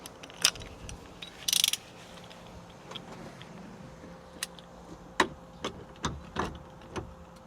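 A torque wrench ratchets and clicks while tightening the bolts of an aftermarket NRG steering wheel on a kei truck. The clicks and ratchet strokes come in a sparse, irregular series, close and fairly crisp, with no talking.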